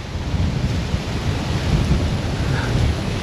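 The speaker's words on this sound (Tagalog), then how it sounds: "Yan ang ulan." Heavy rain pours steadily in San Juan, Batangas, a loud, dense roar with low rumbling and gusty wind, continuous and close with no voices.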